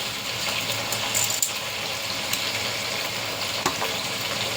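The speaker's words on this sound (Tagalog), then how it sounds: "Prito muna natin ng yan, yung manok." Steady crackling sizzle of frying in hot oil, constant and close, with a couple of faint clinks and no talking.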